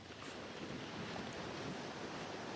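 A calm sea with small waves rolling onto a fine sandy beach, a soft and steady wash of surf at low level, heard alone with no voices.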